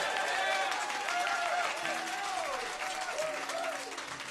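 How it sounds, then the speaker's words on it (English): A concert audience applauds loudly with dense, sustained clapping and some cheering, slowly easing off toward the end, while a voice speaks faintly over it. "Listen to this crowd"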